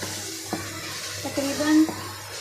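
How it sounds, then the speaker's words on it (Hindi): Whole garam masala frying in oil in a pan for an aloo phaliya dish, with a low sizzle under a few brief stirring scrapes and clinks close by. "मसाले को तब तक फ्राई करना है आपने जब तक इसके ऊपर ऑयल नहीं आ जाता।"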